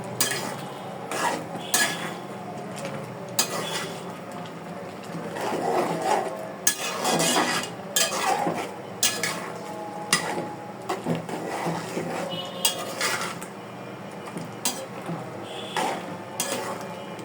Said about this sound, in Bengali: তরকারি বড় ফুটে গেছে, এখন নাড়িয়ে দিব, সব একসাথে মিক্সড করব।